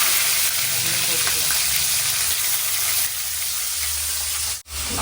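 Cinnamon, cloves, fennel seeds and mustard seeds spit and sizzle in hot oil in a village kitchen, a loud continuous fry with crackles. It dies off abruptly near the end.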